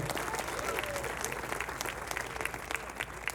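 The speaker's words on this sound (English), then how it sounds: "please give up a big round of applause for Judy." Audience at a municipal band concert claps in a sustained round of applause, a dense crowd of hands heard nearby and holding steady before easing slightly at the end.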